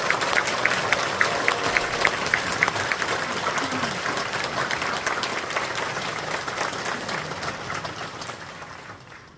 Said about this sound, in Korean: 나오실 때 뜨거운 박수로 맞아주시기